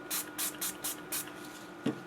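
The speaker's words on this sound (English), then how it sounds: "let me just turn these over and spray these a little bit more" Glimmer Mist is sprayed onto paper flowers in five short, evenly spaced hissing bursts, followed by a small knock near the end.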